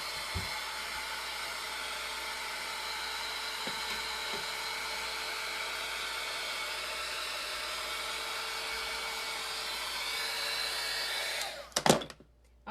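A hair dryer blows steadily on a freshly painted craft piece, giving a loud, even whirring drone that holds for about eleven seconds before it is switched off with a few handling knocks.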